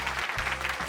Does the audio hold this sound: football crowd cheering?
yes